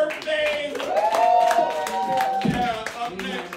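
A comedy club audience at the Broadway Comedy Club in NYC clapping for a comedian's birthday, scattered applause and crowd noise running under a loud voice and whoops.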